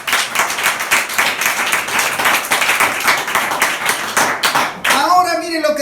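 Church congregation clapping and applauding, a dense, steady burst of many hands lasting several seconds before cutting off, with a voice and music-like tones entering at the end.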